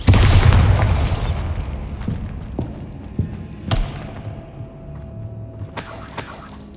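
A Bombarda spell blast in Hogwarts Legacy: a loud booming explosion with a shattering edge that decays into debris clatter, followed by several smaller sharp impacts and a second crashing hit near the end.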